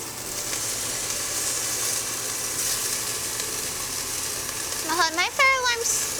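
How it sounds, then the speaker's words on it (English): Sizzling frying for Taiwanese braised beef noodle soup, a steady hiss throughout that grows a little louder near the end, with a few short chirpy squeaks near the close. "I really like the sizzle sound."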